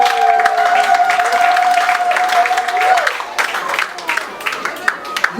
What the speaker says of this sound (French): Si on peut applaudir pour cette maman.